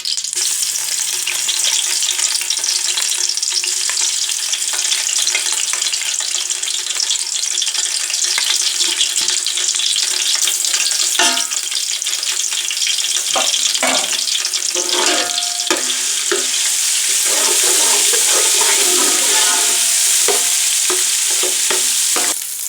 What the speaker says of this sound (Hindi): अब हम इसमें लहसुन और अदरक का पेस्ट शामिल कर देंगे